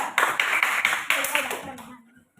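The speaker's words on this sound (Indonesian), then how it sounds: "Tepuk tangan buat kelompok 3." A classroom of students claps for a group for about two seconds in a rapid, fairly loud burst that fades to silence, with voices mixed in under the applause.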